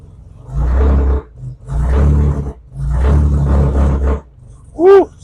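A Chevrolet S10 Blazer engine runs rough in reverse, four loud, uneven surging bursts of low rumbling separated by brief quieter gaps, then a short higher whine at the end.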